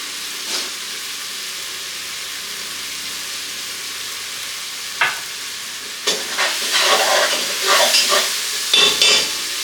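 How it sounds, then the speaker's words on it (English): Onions saute in a pan with a low, steady sizzle, while a utensil stirs and scrapes through them in several short clattering bursts toward the end, close by and with no talking. "Couple more minutes of sauteing the onions, then we'll throw the shrimp and the asparagus in."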